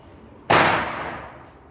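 A single firecracker bursts during Diwali celebrations, one sharp loud bang with a bright burst that rings out and decays over about a second, heard alone.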